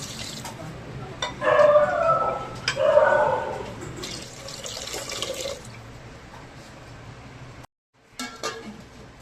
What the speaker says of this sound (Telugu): కరివేపాకు వేసుకున్నాక వాటర్ వేసుకోవాలి